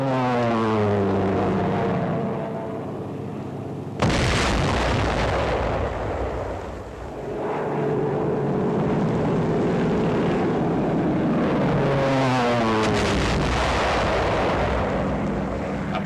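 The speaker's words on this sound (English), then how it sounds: "Dive bombers of the 10th and 14th American Air Forces attack heavily fortified enemy positions." WWII dive bombers of the 1944 American air forces striking fortified enemy positions: propeller aircraft roar and dive while heavy explosions and rumbling blasts build over a continuous noisy wash, loud and sustained without speech.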